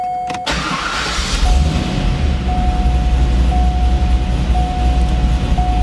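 A GM Gen III LSx V8 cranks briefly, catches and settles into a steady rumbling idle held by the PCM without throttle, a loud close engine note with a faint tone running alongside.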